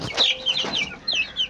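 Six young chicks in a box at a village home peep in quick, high, thin chirps, close and overlapping, with no talking.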